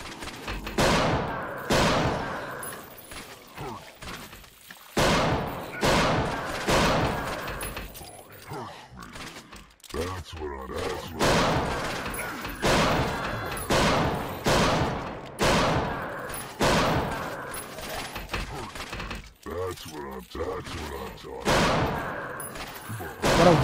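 Rapid, repeated gunfire bursts from the video game Rising of Evil, loud and close, coming in dense volleys with brief gaps, while someone talks over it at times.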